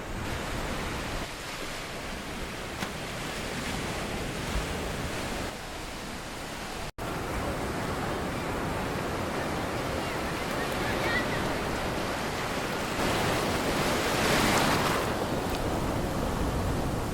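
Continuous roar of ocean surf washing into natural seawater rock pools on Madeira, a broad steady wash of water with swelling surges and some wind buffeting, no voices.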